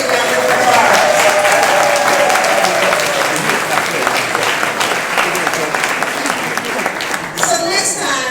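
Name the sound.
round of applause for Michelle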